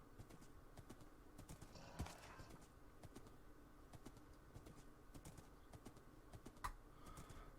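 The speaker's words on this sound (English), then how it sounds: "the skeleton horse is faster than what I thought it was" Hooves of a skeleton horse in Minecraft clop quietly in a steady, quick rhythm, faint and continuous with occasional small clicks.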